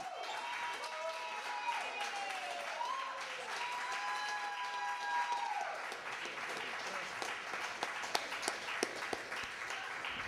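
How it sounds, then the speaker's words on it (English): Steady audience applause at a library poetry reading, with a faint voice and tonal music drifting underneath, moderately distant and even throughout. "Let's give Brother Jess another great round of applause there."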